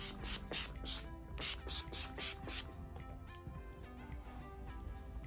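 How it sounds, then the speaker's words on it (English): Makeup setting spray hisses from a pump bottle in a quick series of about six short, close bursts, then a softer rustling fades behind it. "And then go in with a setting spray"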